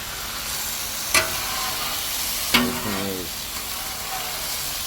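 Beef rump steak sizzles on a hot Weber griddle, a loud, continuous frying hiss with two sharp clicks or taps partway through and a brief faint voice-like sound.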